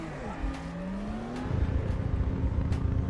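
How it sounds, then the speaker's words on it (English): A Porsche race car in the RaceRoom racing game cranks with the starter, fires and revs, its engine note climbing and then settling into a rough, loud idle with some quick transient clicks. "That's ignition. We have revs."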